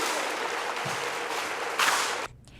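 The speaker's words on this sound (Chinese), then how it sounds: "请给予一队弟兄热烈的掌声鼓励。" An audience applauds a military drill team at an outdoor ceremony. The clapping is a dense, steady wash for about two seconds and then stops suddenly.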